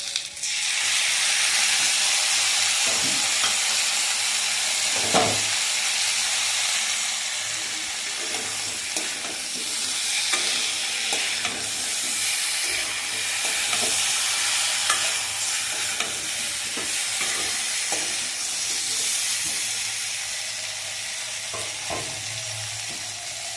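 Mustard and poppy seed paste sizzles and fries steadily in a hot pan while a spoon stirs it, with occasional scraping knocks over a continuous hiss, close and fairly loud throughout, no talking.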